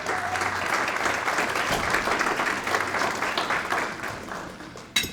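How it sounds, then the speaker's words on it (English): Banquet audience at an athletics hall of fame dinner applauding, a full, steady wash of clapping hands that thins out after about four seconds, ending with a sharp knock. "Please give her a round of applause"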